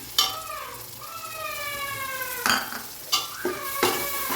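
Chopped tomatoes sauté in a pan with a pinch of salt for chicken biryani, a spoon scraping and stirring in a few sharp bursts over a steady soft sizzle, with tonal background sound running underneath.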